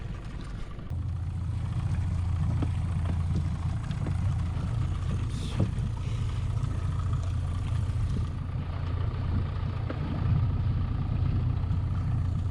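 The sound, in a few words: boat motor running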